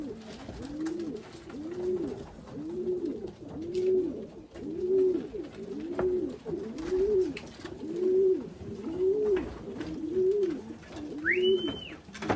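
Racing pigeons coo in a steady, repeating rhythm of low throaty calls, close by, with a brief higher chirp near the end.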